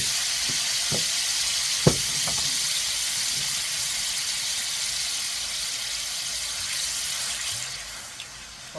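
Marsala wine sizzling in a pan with chicken and chicken broth for Italian chicken Marsala, a steady close hiss of frying with a few brief clinks of stirring, no talking.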